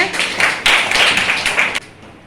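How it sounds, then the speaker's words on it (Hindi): A group clapping at a school event, a loud, dense burst of hands that swells, holds for under two seconds, then cuts off abruptly, leaving quiet room tone. "तालियां होनी चाहिए"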